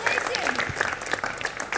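Applause from a studio audience on a Hindi auction game show, brief clapping heard beneath a host talking, with a few louder claps standing out.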